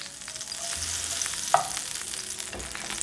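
A tablespoon of butter with a little olive oil melts in a pan before steak goes in, producing a constant soft, close sizzle with one brief clink partway through.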